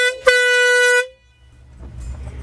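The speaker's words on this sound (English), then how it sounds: "someone's blowing their horn behind me." Loud car horn honking from behind at a fast-food drive-thru, a single sustained blast of about a second that stops sharply, leaving quiet idling noise.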